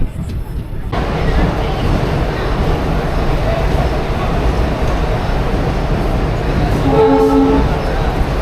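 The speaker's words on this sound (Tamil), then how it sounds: "ஜங்ஷனுக்குள்ளே பிளாட்ஃபார்மில் போய் நிற்குதான்றதா இப்போ பெரிய கொஷின் மார்க்." A train pulls into a platform at Tiruchirappalli junction with a loud, continuous rumble and rattle of wheels and carriages, and a brief tonal horn-like sound near the end.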